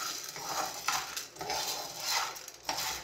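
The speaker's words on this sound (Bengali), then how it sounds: "এই যে কফি ভীমগুলা দিলাম, দেওয়ার পর থেকে নেড়ে যেতে হবে" Coffee beans roasting in a frying pan at home are stirred with a utensil, giving a close rhythmic scraping and rattling against the pan in repeated sweeping strokes.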